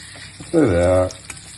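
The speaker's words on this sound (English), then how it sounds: "Now that's a perfect speed of sizzle" Loud, steady frying sizzle of pork chops in a pan, a bright hissing crackle that swells for about half a second and then fades back to low background noise.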